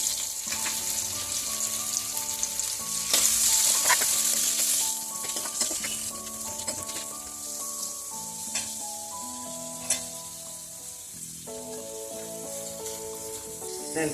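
Onion, green chili and curry leaves fry in oil for a brinjal masala curry, giving a steady close sizzle with light stirring scrapes throughout and no talk.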